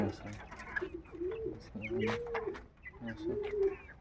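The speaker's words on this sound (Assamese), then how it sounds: "চাওক, বতা চৰাই এইবিলাক অলপ ৰাখি দিছোঁ।" Caged pigeons and doves coo indoors at home, repeated soft rolling calls in slow rhythm, close and steady, with some background clatter.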